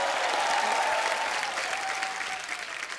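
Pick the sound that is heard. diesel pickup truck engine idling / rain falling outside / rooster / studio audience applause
studio audience applause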